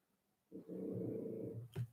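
A man snoring during a conversation, one long, low, rumbling intake breath followed by a short rasping snort, close by and with no talk over it.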